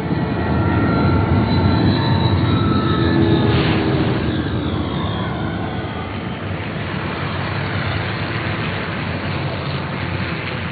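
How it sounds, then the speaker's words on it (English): An airplane in flight in the PS1 video game Aconcagua gives off a loud, continuous cabin drone of engine noise that holds steady throughout with no breaks. "I have taken this flight to cover Pachamama"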